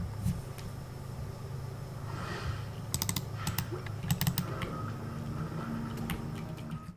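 A computer keyboard picked up by a streaming microphone clicks in scattered clusters of quick, crisp taps over a low steady hum, faint and fairly close.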